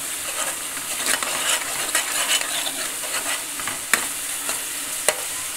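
Masala stirred into a curry in a pan, a steady frying hiss with irregular spoon scrapes and two sharp metallic clinks near the end, close by and without talk.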